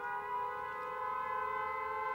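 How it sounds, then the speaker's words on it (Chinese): An air-raid all-clear siren sounds as a steady, sustained multi-tone wail, fairly distant and even in level throughout, with no voices over it. "您听，警报解除了。"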